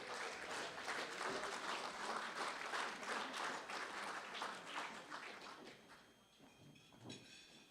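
An awards night crowd at a football-netball league medal event applauds the monthly nominees, a broad, fairly distant wash of clapping that holds steady and then fades toward the end.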